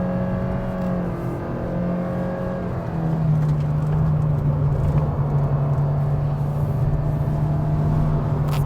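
A 2023 Toyota Vios engine drones steadily inside the cabin while climbing a mountain road, its pitch dropping as the automatic transmission upshifts on its own, then settling into a louder, even rumble.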